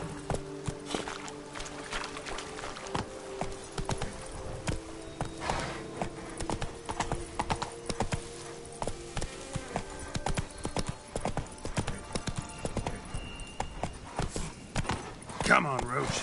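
In The Witcher 3, the horse Roach gallops with quick, steady hoofbeats that clip-clop clearly and close by the whole way through. A short whinny comes near the end.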